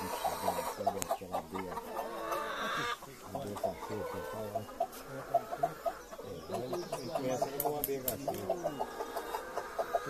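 Chickens and roosters clucking busily close by, a dense chorus of hen chatter with people talking over it.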